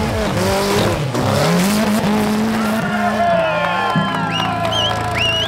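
Engine of a 4x4 rock crawler at a Japanese competition revving hard while its tires spin on a wet, steep rock climb, loud and close with rising and falling pitch, tire squeal and crowd noise mixed in.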